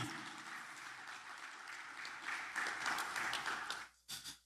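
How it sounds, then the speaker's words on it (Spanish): A church congregation gives applause to God during a sermon on Revelation, a fairly soft, sustained patter of clapping that swells slightly, then cuts off abruptly, followed by a short final flurry. "Démele un aplauso al Eterno, al Soberano, porque Él es digno"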